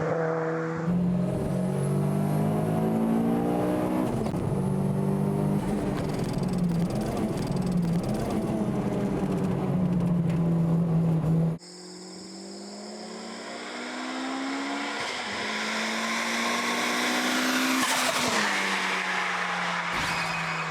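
A Mitsubishi Lancer Evolution IX revs hard while accelerating on the street. The engine note climbs steadily, cuts briefly at a gear change, then pulls and rises again, loud and close, with no voices.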